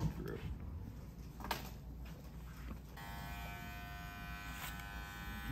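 Hair clippers buzz steadily while cutting hair clipper-over-comb during a barber fade, the motor whine running close and continuous with brief handling noises and talk in the first seconds.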